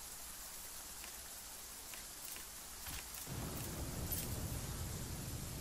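In the video game The Flame in the Flood, steady rain hisses throughout, swelling into a heavier, louder downpour with a low thunder rumble partway through.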